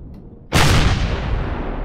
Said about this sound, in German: Ach, das war die Kanonendrohne, die auf mich geschossen hat.